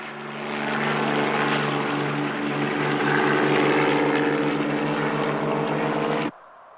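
Helicopter in flight in an action drama, a loud sustained engine and rotor drone that swells slightly, then cuts off abruptly near the end, with no speech.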